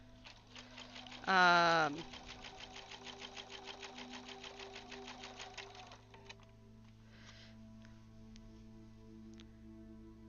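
A sewing machine fitted with a walking foot runs through a quilt in rapid, steady stitching for several seconds, with a brief loud burst near the start, then winds down and stops while a voice speaks briefly.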